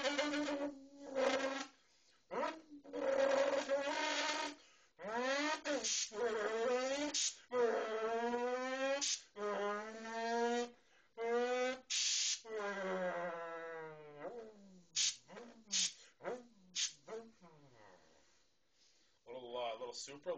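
A man imitates with his mouth a Honda S2000 two-step launch, VTEC crossover and turbo blow-off valve, a run of rising, stuttering vocal revs and sharp hissy bursts separated by short gaps.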